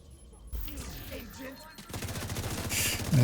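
Bursts of video game gunfire with bullets striking the player after an explosion, a rapid crackling volley that grows louder and denser toward the end, with a faint tonal beep early on.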